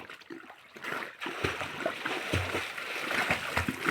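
Water splashes and churns inside a farm well as swimmers jump in, with choppy bursts of splashing and a faint voice nearby.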